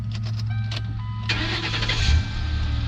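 A 2008 Ford Crown Victoria Police Interceptor's V8 cranks with a starter whir, catches after about a second and settles into a steady, close idle rumble.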